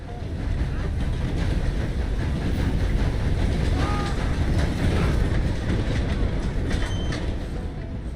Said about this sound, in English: getting run over by a train.